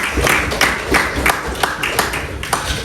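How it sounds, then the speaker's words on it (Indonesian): A classroom of students breaks into applause, a dense burst of close clapping from many hands that carries on steadily for a few seconds, with no talking over it. "kita kasih tepuk tangan dulu dong."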